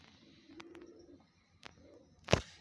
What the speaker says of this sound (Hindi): ये कबूतर जो है यासर भाई का फेवरेट कबूतर है, जो इनकी होम ब्रीड है